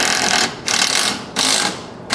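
A power driver spins a self-tapping screw into a CFMOTO ZFORCE 950 Sport UTV skid plate in three close, loud whirring bursts separated by short pauses.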